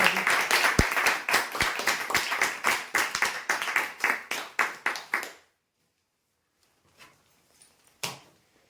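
An audience claps for prize draw winners: a run of about twenty sharp, rhythmic, fairly close hand claps over five seconds, then silence broken by a couple of isolated taps.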